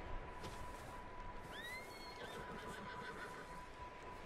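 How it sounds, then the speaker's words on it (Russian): Horse neighs from the video game Red Dead Redemption 2: a single rising-and-falling whinny near the middle, over a steady noisy background with a constant tone. "О, лошадки"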